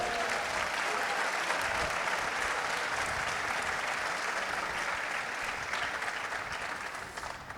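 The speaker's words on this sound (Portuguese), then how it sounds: "Quem crê assim, aplauda ao Senhor com alegria." Sustained applause from a crowd at a church convention, dense and even throughout, slowly tapering slightly toward the end.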